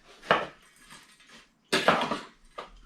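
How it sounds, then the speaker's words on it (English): Oreo biscuit crumbs mixed with butter in a bowl, heard as a few distinct scraping, clattering stabs of a utensil against the bowl, close and separated by short pauses. "So you want to mix it all in nicely. Get that butter mixed all round."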